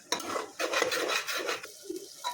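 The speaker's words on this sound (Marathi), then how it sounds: "आता मिक्स करून घेतो" A spoon scrapes and stirs a spiced mixture with Kitchen King masala in oil in a pan. Repeated rasping strokes come close and fairly loud, with short pauses between them and no voices.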